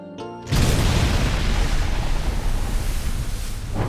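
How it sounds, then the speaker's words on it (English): A cartoon explosion from SpongeBob bursts in suddenly after a faint musical note, then becomes a loud, sustained, rumbling roar that fills the rest of the moment. "So after the song, this explosion is played"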